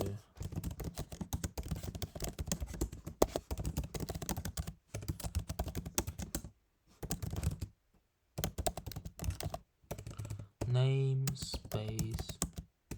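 Steady, rapid typing of code on a computer keyboard, close and continuous with brief pauses, while someone talks over it.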